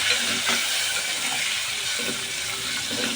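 Ingredients for egg curry fry in a pan with a loud, dense, continuous sizzle, close up, with faint stirring scrapes running through it.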